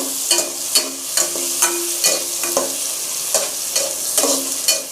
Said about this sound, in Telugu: బాగా అన్నీ కలిసేలా కలుపుకోవాలి